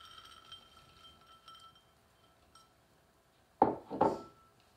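Soft molasses hermit cookie dough is mixed by hand with raisins. A quiet stretch leads to two sharp, close clinks of a utensil against the bowl in quick succession.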